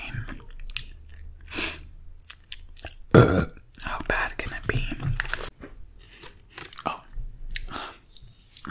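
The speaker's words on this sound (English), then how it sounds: "I decided that I'm going to eat a dog treat for you guys" Someone bites and chews a peanut butter soft chew dog treat shaped like a bone, with close, crunchy wet mouth sounds in bursts, broken up by soft whispered speech.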